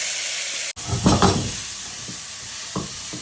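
Garlic hits a hot pan with pork belly and sizzles, the sound starting abruptly after a short cut, followed by a few stirring scrapes over a steady frying hiss.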